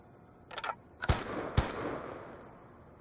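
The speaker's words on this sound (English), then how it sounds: "a side-by-side comparison of a normal reload next to a reload that is done using the fast reload macro" An FAL rifle is reloaded in Black Ops 2: a short, quiet sequence of three sharp metallic clacks spaced about half a second apart, with a faint ringing tail.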